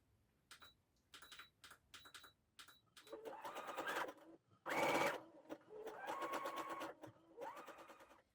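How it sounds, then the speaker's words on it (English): A sewing machine runs a wide zigzag stitch over cord on fabric, starting with a few short stop-start bursts of needle clatter and then settling into longer, steady runs of fast, close mechanical stitching. "you need a really wide zigzag stitch"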